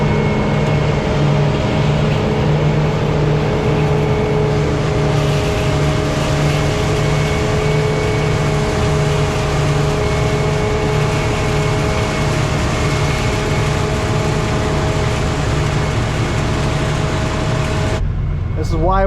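A Case IH combine harvests and chops into a wagon, giving a loud, steady mechanical roar with a constant engine hum that runs unbroken until it cuts off near the end.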